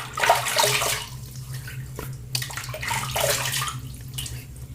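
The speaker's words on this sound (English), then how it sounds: "So let me get my face wet again and we'll start lathering." Tap water running into a sink while a face is wetted before shaving, a moderate splashing hiss in bursts as hands dip in and out, with a low hum underneath.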